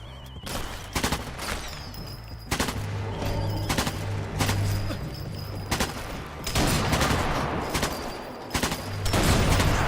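Rapid bursts of gunfire from the Sniper Elite 4 video game, repeated sharp shots and volleys over a steady low game soundtrack hum, loud and close throughout.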